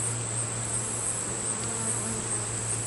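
Honey bees buzz steadily at a hive opened for inspection, the agitated drone holding close and constant throughout with no talking.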